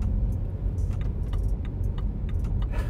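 Steady low car engine and road rumble from inside a vehicle on a driving lesson, continuous and moderately loud, with faint light clicks and rattles over it and no talking.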